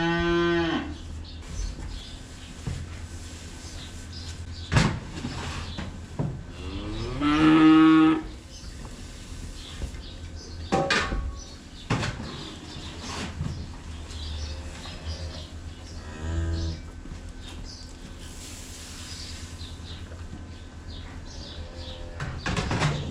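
Cattle moo repeatedly at a farm during morning feeding, several loud drawn-out calls spread across a long stretch with quieter farmyard noise and occasional knocks between them.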